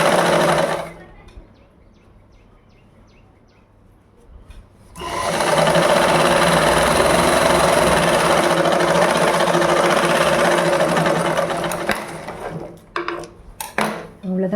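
A sewing machine runs steadily for about seven seconds as it stitches a folded 1.5-inch hem band on a ladies' blouse, with quieter handling noises before and short bursts at the end.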